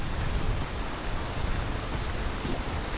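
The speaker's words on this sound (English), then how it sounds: "Oh, it's raining, it's pouring." Heavy rain pours down in the video game PEAK, a dense, loud, unbroken hiss of drops on surfaces filling the whole span, with no voices.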